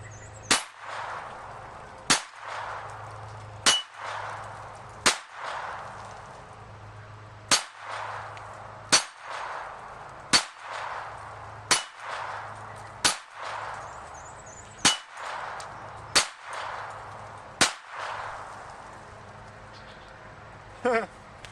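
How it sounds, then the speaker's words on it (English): .22 rifle rounds strike steel targets at about five yards: a dozen or so sharp cracks, each with a ringing metallic clang, spaced irregularly a second or two apart, with brief talk between shots. "if I could shoot a 9mm or 40 or 45 at it for 5 yards, I should be okay with a 22 at 5"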